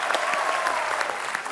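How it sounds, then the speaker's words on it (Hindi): An audience claps steadily and densely to welcome a guest on stage at a comedy talk show. The applause is close and continuous throughout, with no voices over it. "तो आप सबकी जोरदार तालियों के बीच इनवाइट करना चाहूंगा"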